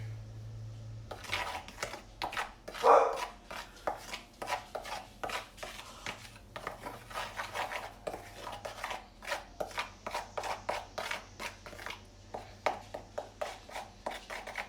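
A spoon works through an orange rosemary chicken marinade in a shallow dish, giving steady rapid scraping and clicking strokes that carry on rhythmically throughout, close and fairly quiet.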